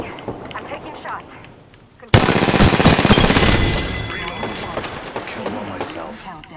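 Gunfire in the video game Apex Legends, a sudden loud burst of rapid shots that erupts after a quieter stretch and then fades into scattered echoing shots, with voices talking throughout.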